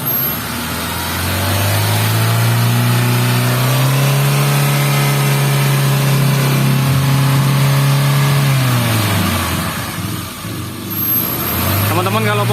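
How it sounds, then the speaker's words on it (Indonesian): A car engine revs hard while its coolant is bled at high temperature, rising to a sustained loud drone, holding, then dropping back before climbing again, close and dominant. "sambil kita nunggu suhu di 81, saya gas saja biar cepat"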